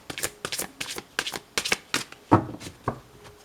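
Tarot cards being shuffled in a quick run of crisp riffling bursts, about eight sharp flicks spread evenly, close and fairly quiet, with no voice.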